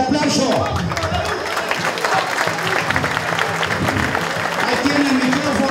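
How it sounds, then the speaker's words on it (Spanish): Applause at a bull sale auction in Saldungaray, a dense, moderately loud burst of clapping from the gathered crowd with voices murmuring underneath throughout. "Fuerte el aplauso."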